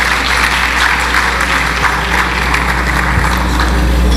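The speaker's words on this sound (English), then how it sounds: "Can we have a round of applause for..." A round of applause for the County Executive at a business event, steady broadband clapping from an audience filling the room at an even level throughout, with a low hum underneath.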